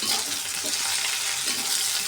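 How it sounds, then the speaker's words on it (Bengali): Flat beans (shim) frying in a pan with fresh coriander leaves and potatoes: a soft, continuous sizzle with faint stirring, close and moderately quiet. "আর একটু ভালোভাবে ভাজবো ধনিয়া পাতা সহ"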